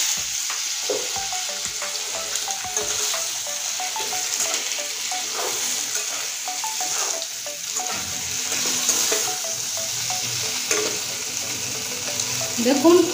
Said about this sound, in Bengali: এবার আলুটা ফোড়নের উপরে দিয়ে দিচ্ছি।